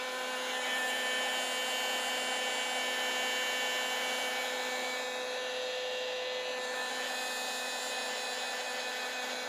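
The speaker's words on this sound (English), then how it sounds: "Just grab the heat gun." A heat gun blows steadily with a constant whirring hiss and a tonal hum, running without a break close by as work is done on a motorcycle headlight and turn signal setup.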